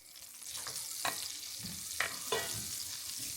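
Soaked, rinsed rice sizzles in melted beef fat and extra butter for a Turkish kavurma pilav, a steady hiss broken by a few sharp scraping stirs, close and alone.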